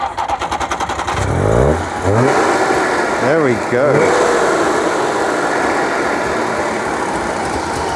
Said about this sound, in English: It's a very smooth two-stroke engine.